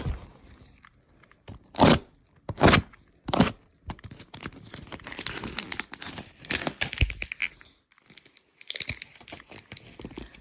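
Packaging around a fire alarm panel is cut open up close, with three loud, sharp tearing and crunching bursts followed by a longer stretch of crinkling and rustling.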